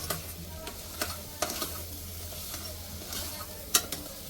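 Spice masala with chole masala roasting in a pan, a faint low sizzle with sparse sharp clicks and taps of a spoon stirring against the pan, close and quiet, no voices.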